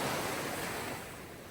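Sea waves wash onto the shore in a steady, dense roar of surf, loud and close at first and easing slightly toward the end, with no voices.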